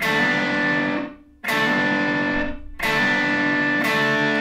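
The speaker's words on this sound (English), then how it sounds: "play these two strings and hammer on with my ring finger" Distorted electric guitar riff with effects, sustained notes broken by brief gaps, ring-finger hammer-ons on two strings ringing out loud and alone.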